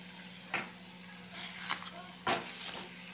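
Mashed eggplant for a Maharashtrian bharit being stirred and mixed in a hot pan, giving a steady soft sizzle with a few louder scraping strokes from the spoon.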